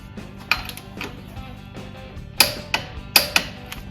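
Sharp metallic clicks and clanks of a torque wrench and tool on the primary clutch of a Polaris RZR 900, about six distinct hits spaced irregularly, close and fairly quiet.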